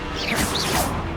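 A Confringo spell blast in Hogwarts Legacy, heard as a short, loud whooshing crackle with a sharp crash, dense and bright throughout, with no talking.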